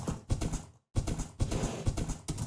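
Horse hooves clip-clop in Minecraft, a quick run of close, evenly paced clicky steps with a brief pause partway through, heard alone without talk.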